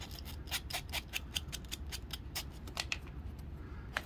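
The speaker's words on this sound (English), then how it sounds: "take this fine grit sandpaper and just make sure that cut is clean" Fine grit sandpaper smooths a cut edge on a plastic 1987 G.I. Joe toy part, giving a quick series of soft, close, dry rasping strokes in an even rhythm with no talking.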